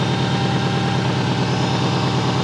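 A car engine idles steadily at close range with a small exhaust leak, giving a constant low rumble and rapid puttering pulses.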